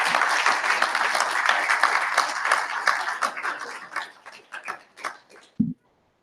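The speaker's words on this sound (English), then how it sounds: "So, applause for yourselves." An ex-Jehovah's Witness audience at a live Sydney event applauds itself, a dense wash of clapping that thins into scattered claps and fades out around five seconds, ending with a brief thump.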